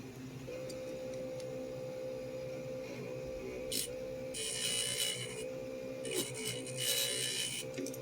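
A motor-spun part from an Onkyo TA2600 cassette deck repair has its edges ground, giving a steady motor hum with bursts of harsh scraping that flare up and fade several times, close and moderately loud, with no talking.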